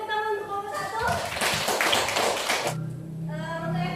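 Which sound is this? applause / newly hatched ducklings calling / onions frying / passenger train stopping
applause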